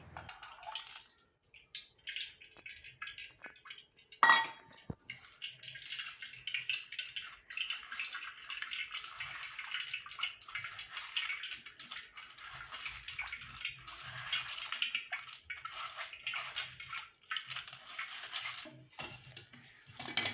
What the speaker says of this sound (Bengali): এখন আমি ছাঁকনির সাহায্যে ছেঁকে নিচ্ছি তেঁতুল